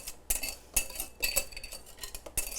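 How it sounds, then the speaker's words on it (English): A whisk clanks against a metal saucepan while Parisian flan mixture is beaten off the heat: sharp, bright clinks in quick irregular bursts, close and clear, with no talking. "I'm gonna now whisk everything back into the saucepan"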